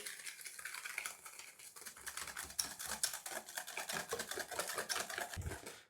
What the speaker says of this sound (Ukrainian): І тепер гарно вінчиком це все ось так перемішую